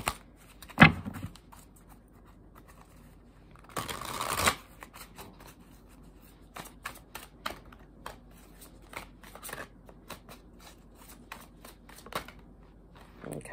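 Tarot cards are shuffled in short, soft riffling bursts, with a louder flurry near the start and another around the middle, close and quiet with no talking.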